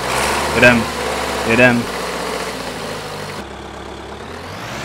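A tractor engine in Farming Simulator 2013 starts up and settles into a steady idle hum, with someone speaking over the first moments before the engine drones on alone and cuts to a lower rumble.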